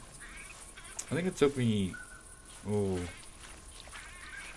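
Ducks quack a few times in theHunter video game, in a bayou hunting area, the calls mid-distance and brief, heard alongside someone talking.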